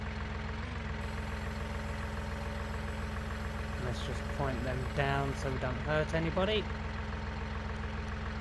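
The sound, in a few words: vehicle engine idling in Farming Simulator 19 video game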